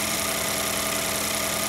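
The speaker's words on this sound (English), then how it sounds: "all four cylinders are hitting just fine. No misfires, no installation errors, and the engine's nice and smooth like that." A 2014-2018 Ford 1.5L GTDI EcoBoost four-cylinder idles smoothly after a spark plug replacement, giving a steady, even engine hum with a constant mechanical drone and no breaks.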